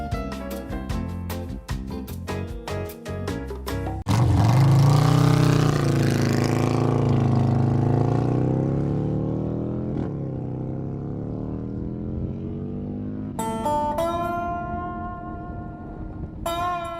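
A Harley-Davidson bagger motorcycle at a land speed record event, its engine running steadily and loudly after a throttle body gasket repair, holding a sustained roar before settling, with a strong harmonic drone near and continuous.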